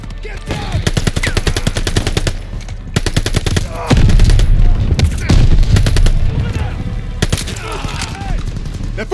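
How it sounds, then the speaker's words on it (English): Heavy gunfire from the Call of Duty: Vanguard mission Operation Tonga, loud sustained machine-gun bursts and rapid rifle fire layered with explosions, with shouted voices mixed into the battle. "Open fire! Take them down!"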